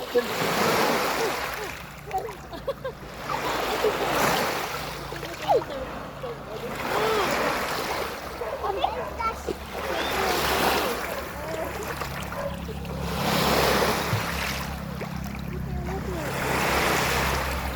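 Sea waves roll in at a swimming beach, each one swelling into a broad, rushing wash and then fading, repeating roughly every few seconds. Scattered voices and splashes sound under the surf.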